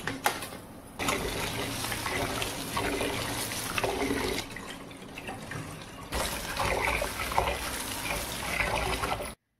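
Rice rinsed with water while preparing idli for dinner, a loud rushing and sloshing of water in two long bursts separated by a brief quieter pause, close to the listener.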